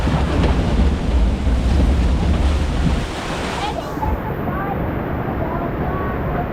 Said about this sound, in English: That's your POV of La Scoot. The flume ride.